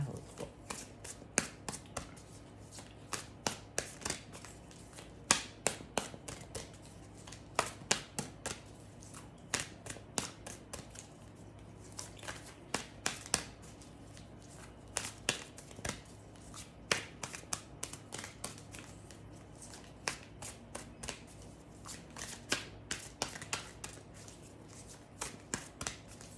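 Tarot cards shuffled and drawn, a steady run of crisp, sharp flicks and slaps repeating irregularly throughout at close range, with no voices.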